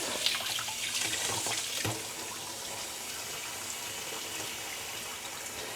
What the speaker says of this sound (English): I'm going to take one leaf at a time and just rinse it off.